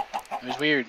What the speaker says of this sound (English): you can hear the other chickens outside popping out eggs